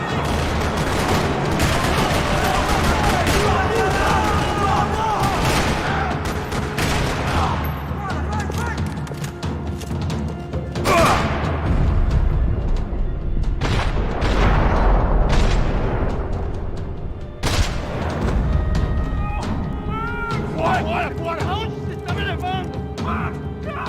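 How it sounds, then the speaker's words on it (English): Rapid bursts of gunfire in the video game Max Payne 3 rattle continuously in a parking lot over a dense soundscape, with voices and loud impacts mixed throughout. "Another parking lot rattling with gunfire."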